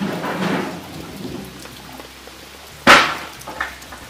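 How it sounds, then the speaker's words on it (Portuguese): Heavy rain falling outdoors on a farm, a steady broadband wash with a low rumble early on and a sharp loud burst near the end. "tá chovendo bastante"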